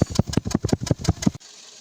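Toyota NZE engine idling roughly with a misfire: close, loud, uneven chugging pulses in a steady rhythm that cut off abruptly, leaving quiet background hiss.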